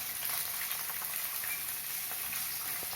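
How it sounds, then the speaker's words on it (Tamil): Two large finely chopped onions sautéing in oil in a pan, a steady dense sizzle throughout, close and even with no talking. "ரெண்டு பெரிய வெங்காயம் பொடியாக அரிஞ்சு வச்சது, அதை சேர்த்து வதக்கணும்"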